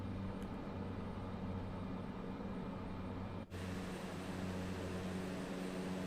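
Steady low aircraft engine drone in Microsoft Flight Simulator 2024 with power pulled back and RPM lowered during a crosswind approach over Norway; a continuous hum with a brief dropout partway, no talk.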